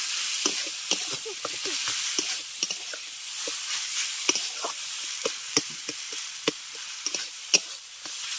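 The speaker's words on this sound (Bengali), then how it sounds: "এবার মোচা আর আলুটাকে ভালো করে মশলার সঙ্গে কষিয়ে নেব" Banana flower and potato sauté with spices in a pan for Bengali mochar chop, giving a soft, steady sizzle broken by frequent scraping ticks of a spatula.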